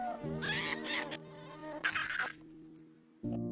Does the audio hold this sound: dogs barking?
no